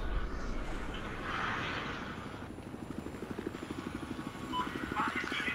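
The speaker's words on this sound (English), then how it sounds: "That chopper right there." Helicopter in the Battlefield 4 video game, a steady rotor thump and engine drone running loud and close throughout, with rhythmic chopping beats in the low end.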